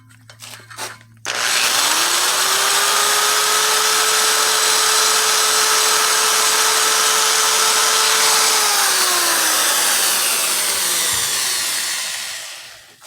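A high-speed rotary tool with a sanding roll spins up and grinds steadily inside an E7 cylinder head port for several seconds, loud and close, then winds down.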